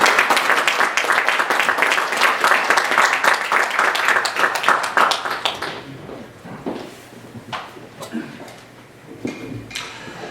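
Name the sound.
congregation applause welcoming a pastor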